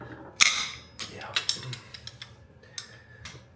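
A wrench works a bolt loose on a 1952 Willys engine, giving a series of sharp metallic clicks and ratcheting snaps, one loud crack near the start, then scattered lighter ticks, close and fairly quiet.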